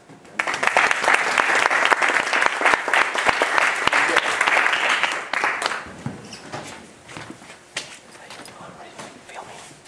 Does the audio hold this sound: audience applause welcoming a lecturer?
yes